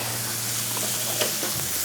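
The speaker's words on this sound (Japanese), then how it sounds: "軽く炒めていきます" Ingredients for a pasta paella being stir-fried in a pan, a steady sizzle with faint scraping and stirring clatters over a low constant hum, no talking.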